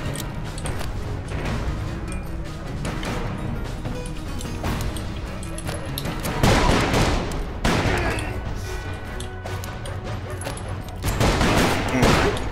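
Gunfire and reloading in the Call of Juarez video game, with scattered shots and handling noises, then two loud, dense bursts of close firing, one in the middle and one near the end.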